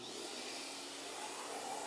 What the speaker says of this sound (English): I think we're going to have to vacuum this thing again